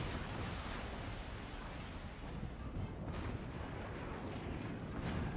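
Howitzer artillery booming in a naval combat video game, a dense, continuous rumble of heavy fire and blasts filling the whole stretch at steady loudness.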